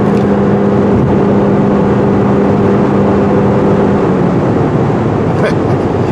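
A 2021 Toyota RAV4 Prime plug-in hybrid accelerates to pass, heard from inside as a loud, steady roar of road and drivetrain noise with a faint whine that fades partway through.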